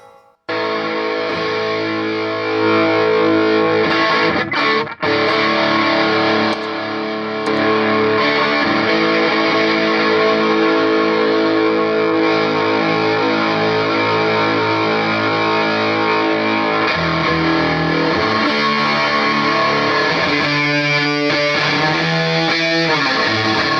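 Electric guitar played through an EQD Sunn O))) Life distortion pedal, a dense, loud sustained distorted drone with chords ringing continuously, a brief cut near five seconds and shifting notes toward the end.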